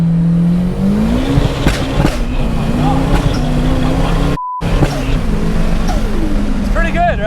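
A 600-horsepower Nissan S15 with a VVL SR22 four-cylinder engine drones under load and rises in pitch while revving, with a brief cut in sound and climbing revs at the end; people talk over it inside the car.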